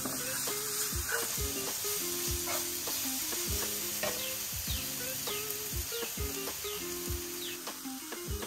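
Chopped onion sautés briefly in a pan for a potato vada filling, with a continuous close sizzle broken by regular scraping strokes of a spoon stirring the pan. No one speaks.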